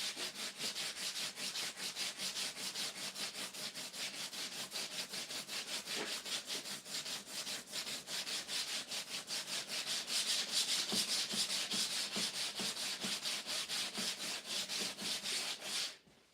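A Nissan S13 race car dashboard sanded with sandpaper, a long, steady rhythmic scratching of rapid strokes, close and continuous, growing slightly louder midway before stopping abruptly at the end, with no talking.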